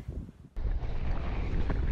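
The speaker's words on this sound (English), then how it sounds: "It is pretty windy out there" Strong wind buffets a GoPro mounted on a road bike descending, a low roaring rumble that jumps louder after a brief quieter moment and then stays steady.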